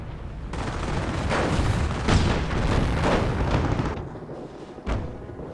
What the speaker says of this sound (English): UK gonna do some air bombardment, I see.